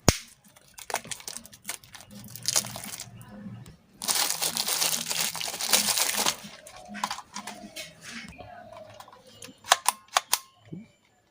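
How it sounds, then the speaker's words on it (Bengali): The plastic wrapping on a new clamp meter is cut open and pulled off, giving close crinkling and crackling in bursts, one long rustling stretch, then a few sharp snaps toward the end. "কভারটা প্রথমে কেটে ফেলবো।"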